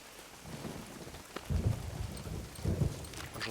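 Steady rain falls in the video game Generation Zero, a continuous wash of noise with low rumbling swells and no voices.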